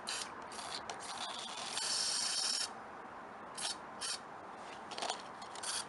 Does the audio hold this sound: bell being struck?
no